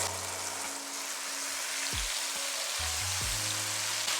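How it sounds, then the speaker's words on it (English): Fresh tomatoes being stirred into onions, garlic and ginger frying in hot oil, giving a steady broadband sizzle with a few low scraping thumps from the spoon toward the end. "Then once they've browned, you can stir in your tomatoes."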